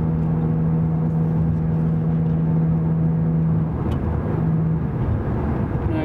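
A Dodge Dart drives straight with a worn rear wheel bearing, giving a steady low droning hum over road and cabin rumble that fades briefly near the end. No speech.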